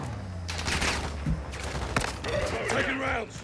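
Bursts of gunfire in the Call of Duty DMZ mode, scattered shots cracking through near and mid distance in a tense firefight, with a player voice talking over parts of it.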